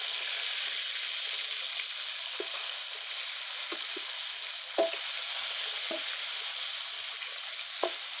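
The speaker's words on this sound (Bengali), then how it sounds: "আরো আমার কয়টা মাছ আছে, আবার আমি দিয়ে দিব তেলের মধ্যে।" Mrigel (mrigal) fish pieces frying in hot oil in a karai, a steady even sizzle with a few soft pops and stirring clicks, alone with no talk.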